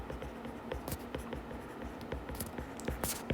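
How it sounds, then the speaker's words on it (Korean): Chalk or marker scratching out a sentence on a classroom board during a math lesson, a steady run of soft strokes and taps, faint and close, with no talk. "자, 그러면은 내가 문장을 이렇게 써볼게요."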